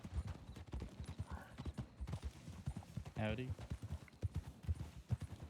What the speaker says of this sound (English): We do have a rider coming up with a lantern on their horse.